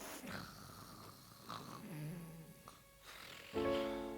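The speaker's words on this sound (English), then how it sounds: "the robber girl soon fell asleep and was snoring" A few slow, rasping snores, each a rough drawn-out breath, close and fairly quiet, with a louder snort near the end.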